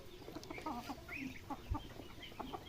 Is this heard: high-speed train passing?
no